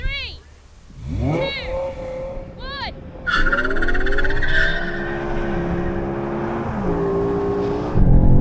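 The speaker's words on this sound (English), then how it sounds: "Daniel, now you go all-wheel drive, launch control, and I'm going to use launch control" BMW M5 cars of several generations launch on launch control and all-wheel drive in a drag race, with loud engine revving and rising pitched roars as they accelerate away, plus tire squeal and people talking throughout.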